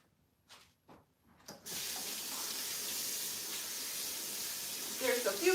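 Tap water runs steadily while a vacuum sealer with fish scales in it is rinsed out at a sink, a constant close hiss following a few soft knocks, with splashing changes near the end.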